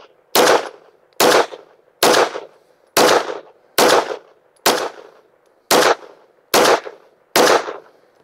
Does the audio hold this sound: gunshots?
yes